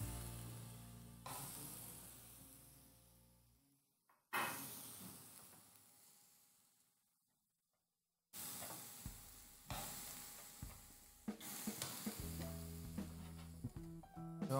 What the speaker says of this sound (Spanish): una vez ya sofrita nuestra cebolla y el ajo, vamos a agregarle lo que es la carne molida